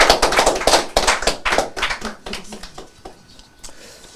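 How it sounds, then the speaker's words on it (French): Applause from an audience at a company recruitment event, a dense burst of clapping close and loud at first, then thinning and fading over a few seconds with no talk over it. "sous vos applaudissements, on va t'encourager."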